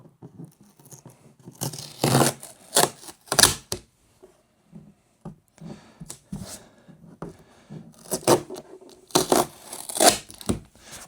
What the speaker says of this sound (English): it's got the tape, so we'll just get this off